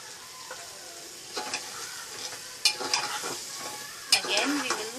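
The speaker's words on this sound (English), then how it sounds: "stir it well so that the potatoes are well coated with the spices" Potato pieces being stirred into spiced mutton in a pan, with intermittent scraping strokes and soft sizzling; louder clatters near the end.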